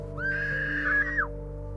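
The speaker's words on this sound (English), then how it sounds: "That was a woman's scream." A woman's single drawn-out high scream in a film about Bible prophecies and the year 1844, rising sharply, holding for about a second over a low steady hum, then cutting off.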